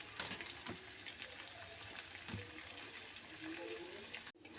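Chicken with capsicum and chilli fries in a pan with a continuous close sizzle and crackle, steady and moderately loud, with occasional faint clinks and no talk.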